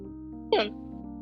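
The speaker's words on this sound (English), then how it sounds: "I sneeze." A single sharp sneeze bursts out close by over a low steady hum, brief and loud against an otherwise quiet background.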